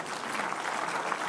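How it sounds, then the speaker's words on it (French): Crowd applause at a French political rally, a steady dense wash of clapping from a large audience lasting about a second. "On applaudit Beauregard."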